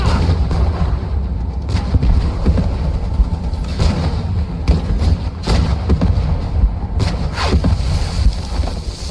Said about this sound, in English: Alles Panzer! Feuern frei auf Infanteriestellung!